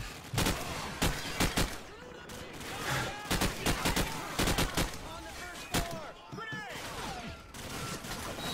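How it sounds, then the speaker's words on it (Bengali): Heavy automatic gunfire in Call of Duty 4: Modern Warfare, with dense bursts of rapid shots and repeated loud cracks running throughout, mixed with game effects and a chaotic battle din. "হেভি বন্দুক চলছে, খতরনাক চলছে গানটা।"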